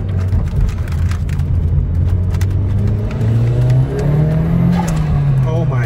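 Flyin' Miata turbocharged Mazda MX-5 NC accelerating hard, steady engine drone from inside the car rising in pitch as it pulls through the gear, with faint talk over it.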